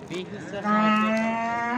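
A cow gives a long, loud, rising moo at a busy cattle market in Vobkent, Bukhara, preceded by a brief lower grunt, close to the listener with faint crowd noise behind.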